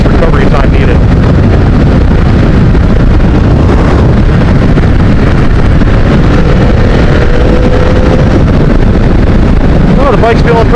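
Ducati 1098 sport motorcycle riding at speed, with loud continuous wind buffeting and road rush drowning a steady engine drone throughout.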